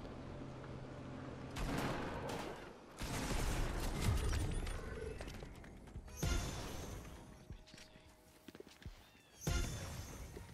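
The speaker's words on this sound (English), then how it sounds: "This person keeps shooting." Gunfire in the video game Fortnite, with scattered bursts and single shots at mid distance mixed with footsteps, mechanical clatter and other game effects, no speech over it.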